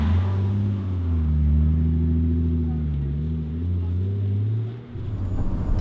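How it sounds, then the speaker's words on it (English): A Toyota Supra driving hard on a race track, heard from inside as a loud, droning engine whose pitch rises and falls smoothly through the run before dropping off near the end. "I am now a passenger in Jimmy Broadbent's car once again"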